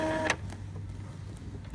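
An Epson L3110 inkjet printer running a printhead cleaning cycle, with a brief whirring motor tone that ends in a click, then a low steady hum, close and quiet with no talk.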